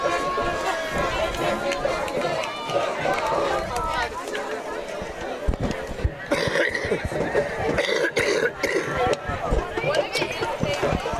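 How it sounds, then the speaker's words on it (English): A commentator coughs over his headset mic during a high school football broadcast, several coughs mixed with ongoing talk and distant crowd noise from the stadium. "I apologize if you're hearing that coughing over my headset"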